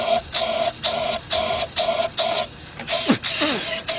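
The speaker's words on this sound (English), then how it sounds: "Now if I blow air through here, I should hear it come out through the system." Air from a blower is pushed through a Chrysler car's radiator cooling system in a series of short, loud, evenly spaced hissing bursts, followed by a couple of longer irregular gusts near the end.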